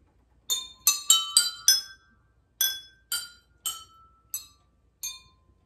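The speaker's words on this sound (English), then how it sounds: "So first up is the metal spoon." A metal spoon strikes water-filled drinking glasses of a homemade water xylophone, ten bright ringing clinks in a quick run then spaced notes, each chime decaying cleanly with no talk.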